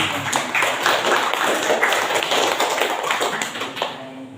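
An Indonesian classroom or meeting audience claps together, a dense steady patter of many hands close by, sustained for several seconds before tapering off.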